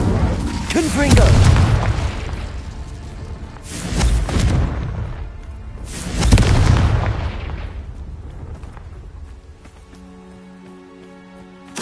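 Deep booming fire-spell explosions in the Hogwarts Legacy video game, three heavy blasts a couple of seconds apart with rumbling decays, fading to quiet tones, with a voice speaking over them.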